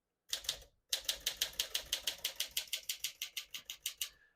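Close, quiet typing on a 1954 Smith-Corona Silent-Super portable typewriter: a brief pair of keystrokes, a short gap, then a rapid, even run of about eighteen crisp clacks, with no voices.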